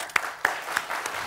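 Studio audience applause at a Georgian television comedy game show comes as a brief burst of a few distinct, evenly spaced claps, nearby and fairly loud.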